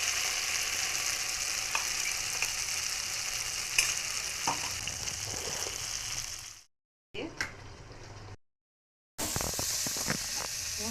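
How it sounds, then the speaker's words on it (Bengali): Spice paste with cashew and poppy seed frying in a pan, a steady broadband sizzle with occasional stirring scrapes, broken by two short silent gaps before the hiss resumes. "কাজু পোস্ত দেওয়া মশলাটা কিছু ভাজতে হবে।"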